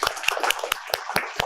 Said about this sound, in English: So big round of applause for them to start with.